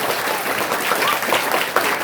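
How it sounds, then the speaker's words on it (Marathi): Audience applause at a lecture in Lonarwadi, Kavathe Mahankal taluka, Sangli district: dense, steady clapping from a gathered crowd, loud and close, sustained throughout with no talk. "टाळ्यांचा कडकडाट"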